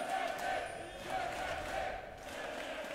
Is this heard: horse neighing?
no